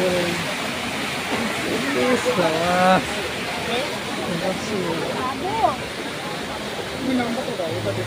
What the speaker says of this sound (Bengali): প্রচুর জল নামাচ্ছে